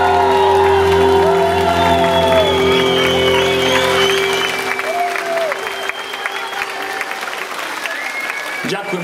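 Audience applause at a live stage show, with clapping and scattered whoops layered over a sustained musical tone that cuts off and leaves the applause to thin out.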